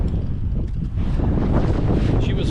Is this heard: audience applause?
no